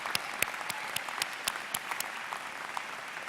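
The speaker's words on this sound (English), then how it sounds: "Graduates, let's give a big round of applause in appreciation for your family and friends." Applause from guests at a university business school commencement ceremony, a steady dense patter of many hands clapping with a few sharper claps standing out, moderately loud and continuous throughout.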